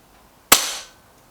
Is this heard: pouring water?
no